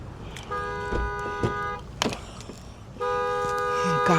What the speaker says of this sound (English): Somebody's car just went off because of the airplane